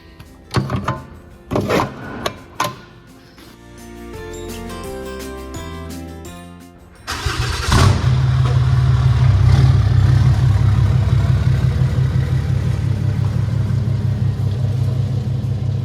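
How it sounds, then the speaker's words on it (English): A diesel heater in a workshop starting up after a few clicks and tones, then settling into a loud, steady low rumbling hum that runs on continuously, with no voices. "I got a diesel heater running in here so I can actually have some warmth"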